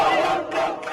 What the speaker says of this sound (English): Outside, crowds gathered.